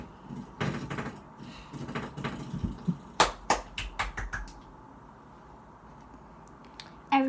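Hands clap in a scattered run of sharp, fairly close smacks during an indoor makeup session, with a few soft handling noises before and silence after.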